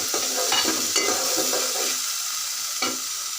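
Shrimp stirred in a frying pan with spices, close scraping and sizzling that stays steady, with a few sharper spoon strokes and a brief clink near the end.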